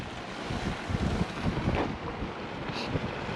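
Cold wind gusting on a mountain in the Tian Shan range of Kyrgyzstan, roaring and buffeting close against the microphone in continuous rough bursts with no voices.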